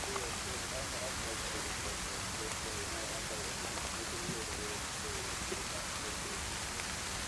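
Steady rain falls in the DayZ video game, a dense even hiss of drops that continues unbroken throughout at a soft level.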